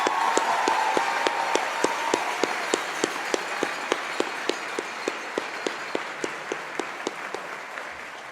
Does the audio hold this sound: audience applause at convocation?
yes